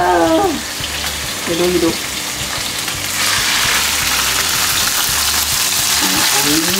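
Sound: salmon frying and splattering in a pan

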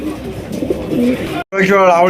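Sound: pigeons cooing

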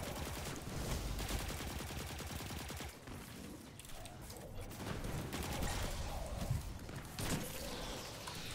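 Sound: gunfire from enemies in the video game Destiny 2

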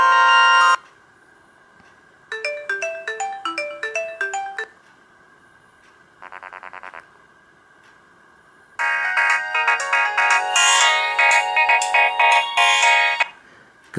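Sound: Nokia 2310 mobile phone ringtone melody

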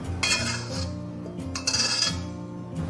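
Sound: dishing braised duck out of wok onto plate

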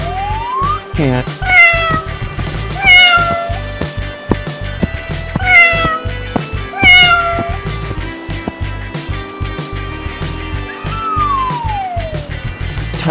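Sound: cat meowing

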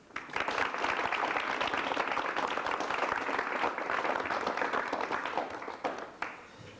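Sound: studio audience applause welcoming guests

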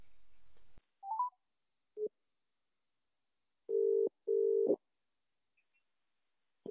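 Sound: telephone ringing tone while placing a phone call

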